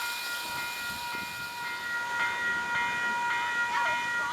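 A train rolling along with a steady rumble and high metallic squealing tones, continuous and fairly close, with no voices.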